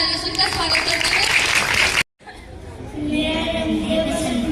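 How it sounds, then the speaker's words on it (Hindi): Children at a school Independence Day program clapping together to welcome singers, a busy crowd of applause mixed with chatter, breaking off briefly and then resuming more softly. "तो सभी बच्चे इनके लिए जोरदार तालियों से इनका स्वागत करते हैं"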